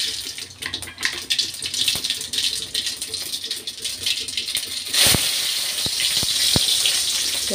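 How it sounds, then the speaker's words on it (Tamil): Mustard seeds crackle and pop in hot oil with a steady spluttering sizzle that grows louder and busier partway through. "இப்போ தாளிச்சிக்கலாம் கடுகு"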